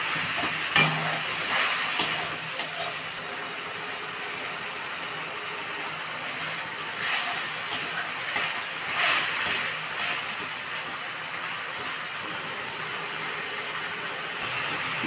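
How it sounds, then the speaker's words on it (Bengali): Spice masala with chilli powder and tomato being stir-fried in a pan, a steady broad sizzle with irregular scraping and clinking of the stirring spoon, close and moderately loud, no voices. "দিয়ে ভালো করে মশলাটাকে কষে নেব"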